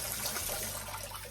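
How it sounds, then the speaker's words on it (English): Water pours steadily into the soil of a potted Philodendron Birkin houseplant, a continuous close splashing rush with no talking. "give it a good watering, like I am here, all the way through the soil everywhere"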